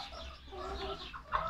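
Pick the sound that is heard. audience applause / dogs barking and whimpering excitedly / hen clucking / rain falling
hen clucking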